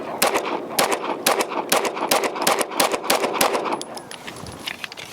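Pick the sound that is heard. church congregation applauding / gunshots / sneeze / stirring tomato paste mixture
gunshots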